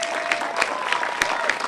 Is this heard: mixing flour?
no